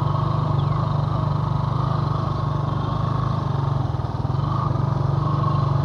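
Motorcycle riding along a road in Zapotitlán, its engine producing a close, steady droning hum with a constant, even rhythm throughout.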